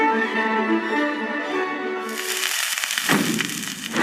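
A movie-style explosion effect bursts in suddenly after a sustained tonal sound, a loud, crackling blast with rumbling debris that trails off.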